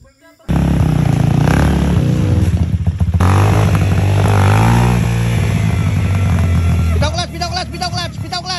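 Motorcycle engine running loudly and steadily during a riding lesson, with a coach's voice talking over it throughout and the engine note rising in places.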